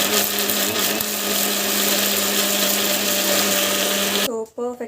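A kitchen mixer grinder whirs loudly and steadily for about four seconds as it grinds chutney into a fine paste, then it cuts off abruptly. A voice speaks briefly once it stops.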